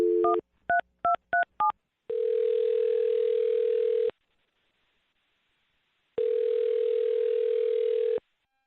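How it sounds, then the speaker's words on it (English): A telephone sounds a short run of quick dialing tones, then a steady ringback tone plays twice with a silent gap between the two, clear and close. "I'm going to dial her phone number right now"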